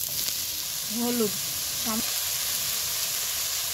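Cabbage added to lightly fried tomato and capsicum sizzles steadily in hot oil in a pan, a continuous close hiss, with a couple of brief voiced sounds over it.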